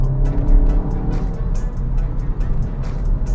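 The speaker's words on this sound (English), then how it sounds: "you can still pretty easily spin the wheels in third. That's third gear pull." A car pulls hard in third gear with wheelspin, its engine roaring loud and close with a rhythmic pulsing note as it accelerates.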